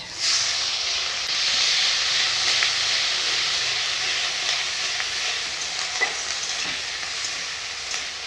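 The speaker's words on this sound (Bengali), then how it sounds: "ওরাতে আর একটু তেল দেব একটু তেজপাতা দিচ্ছি বেটে রাখা পেঁয়াজ" Bay leaf and ground onion paste hit hot oil in a pan, giving a loud, steady, close-up sizzle with a bright hissing texture and occasional small pops and spatters throughout, without any speech.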